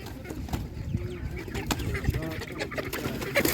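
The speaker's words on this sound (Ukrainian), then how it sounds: "Це півні, бачите, з боку курочки, а це зараз півні, півні ще більше." Chickens and roosters crowd together at a rural animal market, with scattered clucks and short crowing calls over a busy background, while a person talks nearby.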